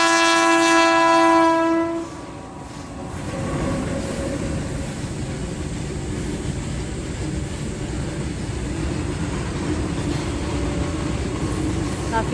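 A long goods train with a loud, sustained horn blast at the start, then a steady rumble and rhythmic clatter of wagons rolling past a railway crossing nearby.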